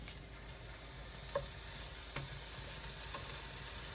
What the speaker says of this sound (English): And we're just gonna brown it. That's all we wanna do. Break it into pieces.